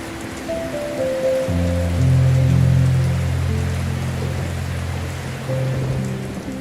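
Monsoon rain falls in Bangladesh, a continuous, even wash of rainfall that holds steady throughout, with low sustained tones droning beneath it.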